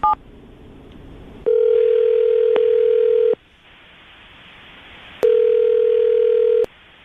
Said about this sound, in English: call her right now